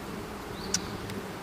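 Honey bees buzz around a hive being moved to a mountain bee yard, a soft continuous hum with a few individual bees whizzing close past the microphone.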